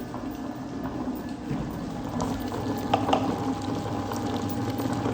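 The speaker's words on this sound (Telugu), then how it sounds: "ఇలా కలుపుతూ తిప్పుతున్నానండి, రుబ్బుతున్నాను" A kitchen grinder churning a food mixture, giving a continuous close whirring, churning drone with faint rattles and a brief knock near the middle, no talk.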